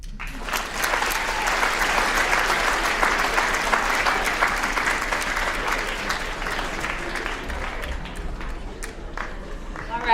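An audience claps for student presenters at a school writers week session, a loud, close, dense wall of applause that holds steady for several seconds before tapering slightly, with faint voices mixed in.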